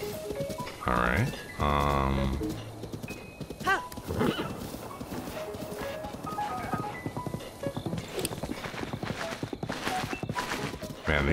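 A horse whinnies loudly, then hooves clip-clop and gallop in a steady rhythm in the video game The Legend of Zelda: Breath of the Wild, with some speech mixed in.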